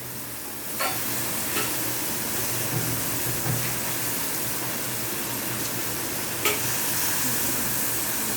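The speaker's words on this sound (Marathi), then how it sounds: "त्यामध्ये मी घालत आहे मोड आलेले मूग, जे मी सकाळपासून भिजत ठेवले होते" Soaked sprouted mung beans sizzle steadily in a hot pan, with soft scraping stirs and a few sharper clatters of the spoon against the pan; no one speaks.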